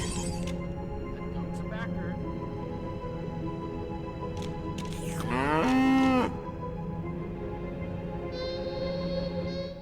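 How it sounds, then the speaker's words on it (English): A companion cow in the Goat Simulator video game gives a single loud, drawn-out moo midway through, over a steady game music and ambience bed with other brief effects. "that game's famous companion cubes being replaced with a companion cow"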